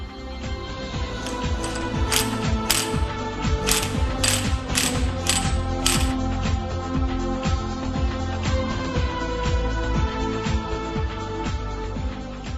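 Special tools, a nut puller and a primary gear holder, tighten the driver gear special nut and Allen bolt on a Bajaj Pulsar NS 200 engine, giving steady close ratcheting clicks in quick runs with no talk.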